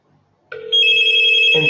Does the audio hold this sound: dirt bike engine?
no